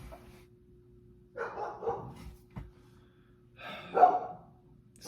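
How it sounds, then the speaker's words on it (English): A dog barks indoors in a few short bursts, one pair around the middle and a louder one near the end, over a quiet room hum with no talking. "Excuse my dog."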